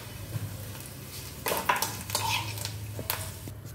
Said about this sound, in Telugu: ఇప్పుడు పోపు వేగింది కదా, చక్కగా గిన్నెలోకి తీసేసుకుంటున్నానండి.